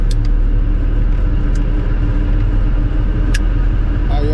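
Car driving along a road early in the morning on the way to work, a steady loud low rumble of engine and tyres filling the cabin, with a few faint clicks and no talking.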